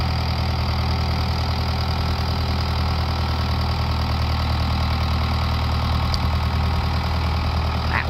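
A tractor engine runs steadily while moving hay, a loud, close, continuous low rumble with a rough knocking texture and no voices over it.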